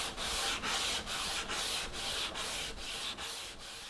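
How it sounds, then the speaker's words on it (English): A random orbital sander works across a wooden tabletop, a steady rough abrasive hiss that swells and dips in a regular pulsing rhythm, close and alone with no voices. "I'm going to hit the tabletop with a random orbital sander"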